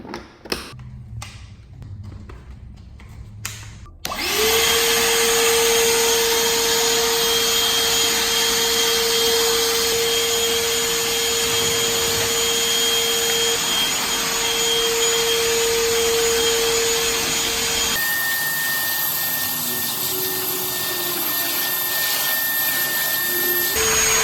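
A RIDGID full-size cordless vacuum runs in a garage, switching on with a loud steady roar and a high whine. It keeps a constant drone, then drops a little in pitch near the end.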